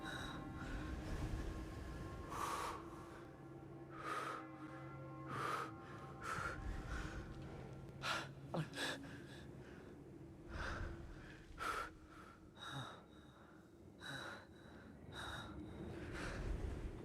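Placeholder breathing for a manga-style game character, with a run of gasps and snorts coming in repeated bursts over a steady low hum, the breaths shifting in intensity from moment to moment.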